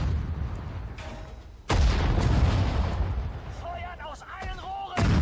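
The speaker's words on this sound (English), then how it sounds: "our long-range artillery is going to be important" Long-range artillery fire in the WWII strategy game Sudden Strike 4, Battle of Kharkov, with sharp loud booms near 1.7 s and 5 s over continuous rumbling battle noise and distant gunfire, chirpy tones mid-clip.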